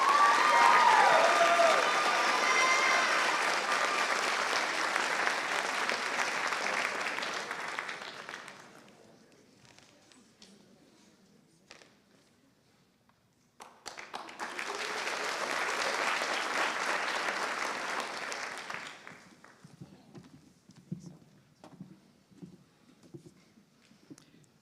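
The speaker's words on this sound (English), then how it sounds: "Let's give them a round of applause." Loud, sustained audience applause fills an awards night hall, fading out, then a second burst of clapping swells up before dying away into scattered claps and room noise.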